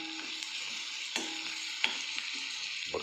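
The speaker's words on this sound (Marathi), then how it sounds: "त्यानंतर लसूण मिरची पेस्ट आणि बारीक चिरलेली कोथिंबीर छान परतून घ्यायचं" Garlic-chilli paste and chopped coriander sautéing in a pan for an onion bharad dish, a soft steady sizzle with a few scraping stirs and light utensil taps.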